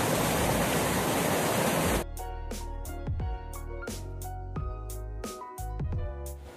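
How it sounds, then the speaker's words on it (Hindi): Flowing water in a forest in the Munnar hills: a loud, steady broadband rush of water dominates for about two seconds, then cuts away to a sequence of struck tonal notes with no water audible. "यहाँ पर पानी की आवाज आ रही है।"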